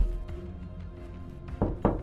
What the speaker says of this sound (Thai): แต่คราวนี้เสียงเคาะประตูดังขึ้นมาอีกครั้งหนึ่ง